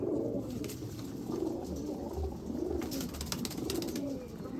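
Chennai-breed pigeons coo in soft, repeated throaty rolls close by, several overlapping calls in a steady rhythm, with faint clicks in the background.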